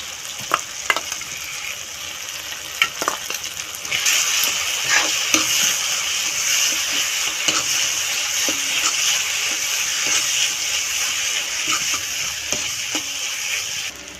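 Capsicum sautéing in a pan with turmeric, chilli powder and mustard-poppy paste, a steady broad sizzle with occasional stirring scrapes and clicks throughout, growing a little louder partway, with no talking.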